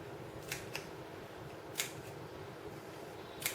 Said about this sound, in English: Take a scissors, make a small snip